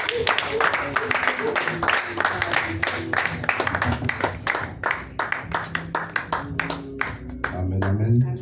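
During a praise and worship service, a church congregation claps in acclamation, a steady run of sharp rhythmic claps with voices speaking and singing along.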